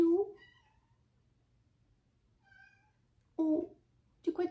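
A house cat meows several times indoors near someone knitting, with short, close meows separated by pauses; someone speaks French between the cries.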